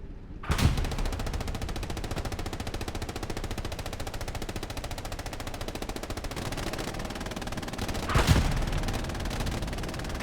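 Medium tank gunfire in Hell Let Loose, two heavy booming shots about seven seconds apart over a dense, continuous rattle of battle noise.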